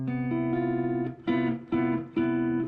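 Sustained jazz guitar chords ring out, struck four times in a row with short gaps, each one dense and slightly dissonant from a fourth clashing with the third, no voices.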